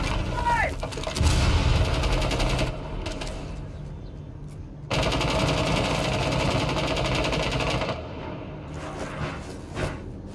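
Gunfire in Rainbow Six Siege on the Clubhouse map during a team deathmatch bomb round, dense bursts of game shots that rise loud at the start and again mid-clip, with voices talking over them.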